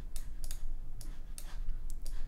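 Sharp computer mouse clicks during an animation editing session, several quick single and double clicks spaced irregularly over steady low room hum, close and fairly quiet.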